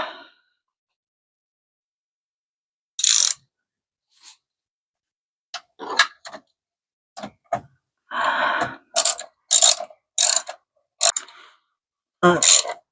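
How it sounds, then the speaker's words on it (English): Ratchet tightening a bolt on the intake bracket of a 27won short ram intake on a 2024 Honda Civic Si, heard as scattered short clicking bursts separated by silence, fairly close. "Start to tighten the bracket."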